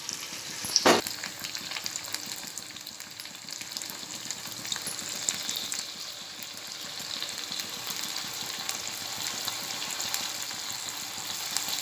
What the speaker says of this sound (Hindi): अभी हम इसे धीमी आंच पर तलेंगे क्योंकि ये चिकन जो है वो कच्चा है